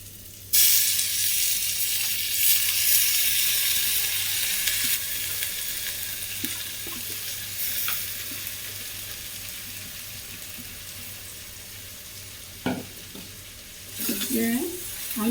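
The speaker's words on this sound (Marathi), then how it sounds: "आतां हांव हांगा मेथी पालो धुवन दवरलेलो घालता" Washed, wet fenugreek leaves hit a hot pan for a potato and fenugreek dish, setting off a sudden loud hiss that slowly fades into a softer, steady sizzle, with brief clatter and a voice near the end.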